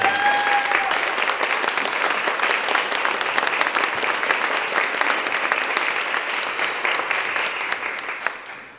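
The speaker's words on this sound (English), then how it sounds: "So if they can stand and give them a round of applause, please." A room full of people at a community foundation meeting gives a sustained round of applause for honorees standing in the audience. The dense clapping stays loud and steady throughout, then tapers off at the very end.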